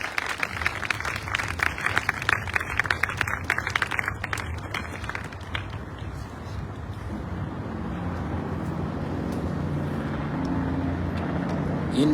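Audience applause at a Hiroshima and Nagasaki memorial event welcoming a Bikini Atoll local government official, a dense clapping burst over the first seven seconds that thins into a steady, softer crowd murmur.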